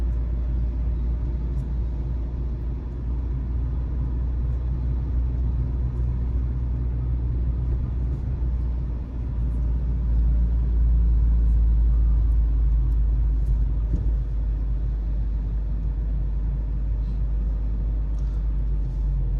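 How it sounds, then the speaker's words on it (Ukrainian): A car on a driving-exam route shifts gear and accelerates, giving a steady low engine rumble with a slight swell in the middle, heard from inside the cabin without voices. "Спокійно переключили, розганяємося."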